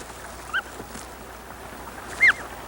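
Snow geese on Wrangel Island in the Soviet Arctic give two short honking calls, one faint and one louder, separated by a quiet outdoor background.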